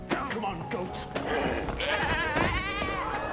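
Goats bleating in a quick run of wavering, nasal cries, several overlapping and fairly close, with a voice calling out among them.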